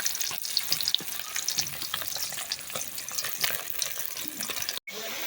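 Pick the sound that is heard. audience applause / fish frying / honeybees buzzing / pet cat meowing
fish frying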